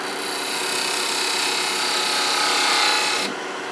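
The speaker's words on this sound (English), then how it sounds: "now I'm going to switch to a detail gouge" A detail gouge cuts a small wooden napkin ring spinning on a lathe, giving a continuous close, loud hissing scrape that stops abruptly near the end.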